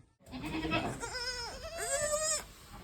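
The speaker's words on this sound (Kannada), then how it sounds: "ಮನೆಯಲ್ಲಿರೋ ಮೇಕೆ ಮರಿಗಳೆಲ್ಲ ಮಾತಾಡ್ಸ್ತವನೆ." Young goats bleat twice, close by, in wavering high-pitched cries one after the other.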